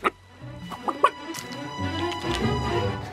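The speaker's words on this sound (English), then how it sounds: "We're gonna go hunt a chicken, Hawaiian chicken catch and cook." Hawaiian chickens clucking, several short sharp clucks near the start, then a softer run of continuous clucking and murmuring, fairly close outdoors, with no talking.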